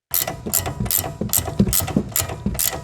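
Ratchet wrench clicking in quick repeated bursts while loosening the lock nut on a Ford sway bar end link, about seven sharp strokes close up with no talk.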